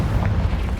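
Confringo explosion spell in Hogwarts Legacy, a short muffled booming burst with low rumble, loud and brief, with no talk over it.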